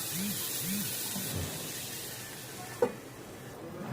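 Onions sizzle in a pan while whole tur usal cooks with spices and salt, a steady soft frying hiss running throughout, broken by a brief utensil clink near the end; a few faint tonal chirps sit under it.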